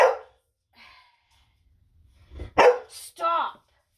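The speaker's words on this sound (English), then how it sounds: "you're gonna hear my dogs in the background a lot because they're rude" Pet dogs barking in a home kitchen, a loud sharp burst near the start, then a quieter pause before several close, loud barks in quick succession.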